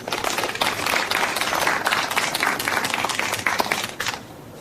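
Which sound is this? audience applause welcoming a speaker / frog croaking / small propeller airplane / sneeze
audience applause welcoming a speaker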